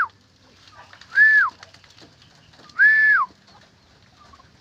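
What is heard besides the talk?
pet bird calling on the roof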